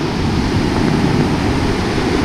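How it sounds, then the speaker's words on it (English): Carrick Creek Falls, a waterfall in South Carolina, pours with a steady, dense rushing roar that fills the scene up close, broad and unbroken throughout with no voices over it. "this was our next waterfall, Carrick Creek Falls"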